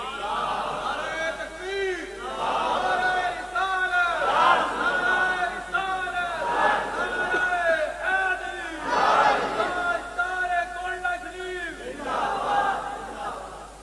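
A large crowd at a religious gathering chants Allahu Akbar in loud, repeated, rhythmic waves in reply to the Nara-e-Takbir call, the voices rising and falling together throughout.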